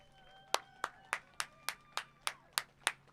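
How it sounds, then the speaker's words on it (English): Hand clapping at a Gold Cup Qualifier race awards gathering, honouring the event staff: roughly nine distinct, evenly spaced claps, fairly close and moderately quiet, over a faint steady hum with no talk. "So can we give them a big round of applause?"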